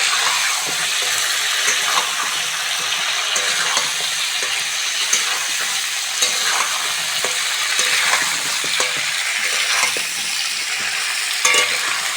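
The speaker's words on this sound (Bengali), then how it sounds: "ফুলকপিটাও ভালো করে ভেজে নেব" Cauliflower and potatoes fry in a pan with a loud, steady sizzle and hiss, dotted with small crackles and stirring scrapes throughout.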